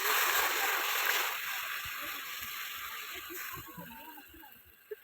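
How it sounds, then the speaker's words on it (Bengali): Water poured into a pan of Bengali fish curry with spices, a steady broad splashing and sloshing rush for about a second, then settling into a quieter simmering wash with small clinks. "এই জল দিয়ে দিলাম"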